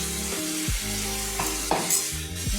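Spice paste of turmeric, salt and tomato pieces frying in a pan for a fish dish, a steady close sizzle with intermittent stirring scrapes and a few clanks throughout.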